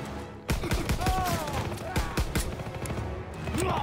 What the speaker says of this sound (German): Los, du hast ein Maschinengewehr.